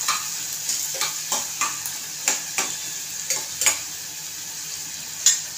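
Chopped onion fries in a pressure cooker while browning for a cauliflower and potato curry, giving a steady bright sizzle broken by repeated clicks and scrapes of a spoon stirring against the pot.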